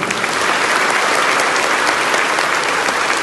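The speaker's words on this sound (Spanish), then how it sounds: "yo le pido un aplauso fuerte para ellos" Loud, sustained applause from a congregation at a church Mass, steady and dense clapping throughout with no pauses.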